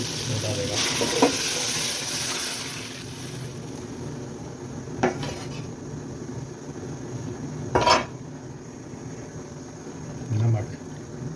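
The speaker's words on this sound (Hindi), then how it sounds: "अभी ये गर्म पानी इसमें डालेगा" Hot water poured into a pot of cooking meat for shorwa, with sizzling and frying, the clatter of a spoon against the pot, and a few sharp knocks, while someone talks throughout.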